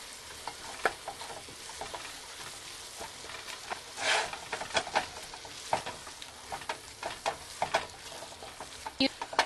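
Vegetables, including peas, sizzle steadily in a hot frying pan for a chicken soup as a utensil stirs and scrapes through them. Irregular clinks and scrapes sit over the constant close frying hiss.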